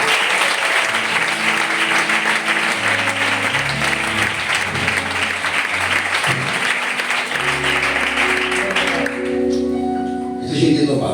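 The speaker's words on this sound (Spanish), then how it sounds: "Le damos un fuerte aplauso a la palabra" A church congregation gives a strong, sustained round of applause while sustained keyboard or organ chords play underneath, the clapping fading slightly as the music carries on near the end.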